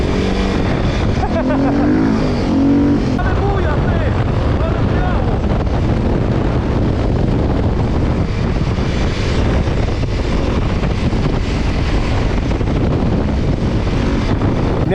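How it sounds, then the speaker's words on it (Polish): Heavy wind buffets the microphone while riding a dirt motorcycle, a constant loud roaring rush with engine noise underneath throughout. "miałem taki perfidny podmuch wiatru"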